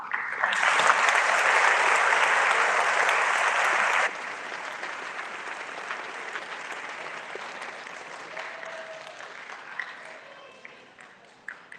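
Audience applause for a guest speaker's mother at a Students For Sobriety event, a loud sustained burst of clapping for about four seconds that then thins into scattered, fading claps with no voices.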